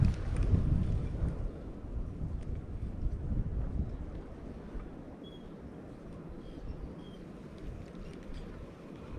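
Strong, gusty wind buffeting the microphone beside a creek, a continuous low rumbling roar that is heaviest at the start and then eases to a steadier whoosh, with no talk.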